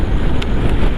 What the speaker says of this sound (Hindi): बहुत तेज़ हवा चल रही है यार।